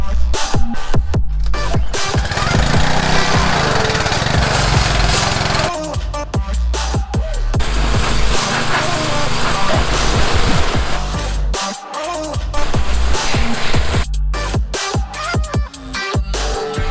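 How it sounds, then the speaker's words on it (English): A power washer blasts caked mud out of a car's wheel wells and underbody, a loud continuous hissing spray that runs for most of the stretch with brief breaks and changes in pitch. "we're actually gonna break out the power washer because we're caked in mud actually up in the wheel wells"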